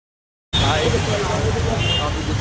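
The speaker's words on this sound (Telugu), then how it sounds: "డబల్ ట్రాఫిక్ ఉంది బయట" Road traffic rumbles just outside in a Hyderabad–Khammam street setting, a steady dense roar of passing vehicles that starts abruptly after a short silence and carries on without a break.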